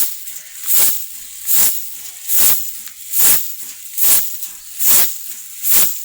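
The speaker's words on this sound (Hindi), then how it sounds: "बड़े झाड़ू से मैं जो है ना इसको बाहर निकाल दूँगी" A big broom sweeps outdoors in regular strokes, each a loud, close, hissing swish repeated about every 0.8 seconds, alone with no talk.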